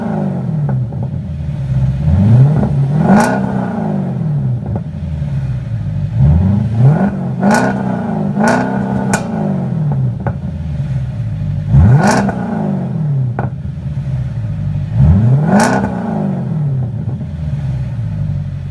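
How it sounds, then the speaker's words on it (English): A 2008 Audi S5 V8 with both resonators deleted revs repeatedly in sharp, rising bursts that fall back to a burbling idle between blips, loud and close. "I'll also toss in an exhaust clip right now."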